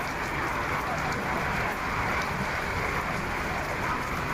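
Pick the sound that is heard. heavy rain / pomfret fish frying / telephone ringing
heavy rain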